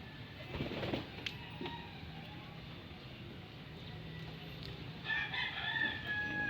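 Pigeons coo and call faintly over a low outdoor background hum, with a rooster-like crow rising near the end.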